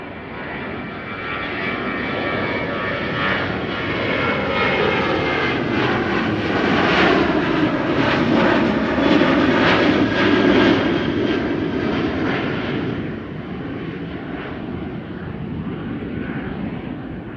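A KLM airliner taxis for departure to Stockholm at Schiphol on a morning, its jet engines a loud, steady roar that swells slightly midway and then eases as it moves off.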